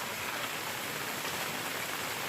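Rainwater leaking through the roof and dripping inside a house during heavy rain, with a steady, dense hiss of falling water that carries on evenly throughout.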